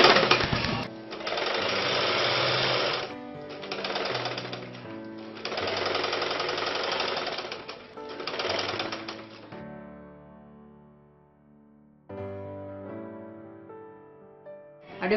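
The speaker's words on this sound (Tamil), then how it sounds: "ஸ்லோவா தைக்கணும்." A sewing machine stitches fabric for a sleeveless umbrella frock, running in loud, steady, whirring bursts separated by brief pauses, then slowing to a quieter, lighter hum before picking up again near the end.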